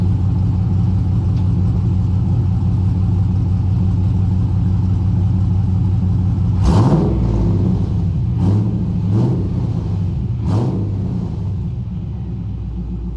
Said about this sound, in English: Sky, why don't you go in there and rev it up a little bit? Just tap the gas a few times